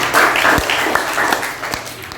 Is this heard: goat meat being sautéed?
no